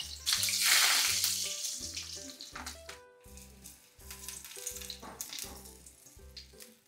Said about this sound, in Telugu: మిరపకాయకి జస్ట్ ఇలా పంక్చర్ చేసేసి నూనెలో వేసేసుకుని